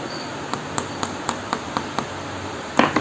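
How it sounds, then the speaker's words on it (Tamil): Light hammer taps on a nail driven into a CEAT puncture-safe tyre, seven evenly spaced sharp strikes about a quarter second apart, then a louder clattering knock at the end, close and alone over a low background hum. "ஆணி அடிச்சுட்டு மறுபடியும் வச்சு காட்டுறேன்."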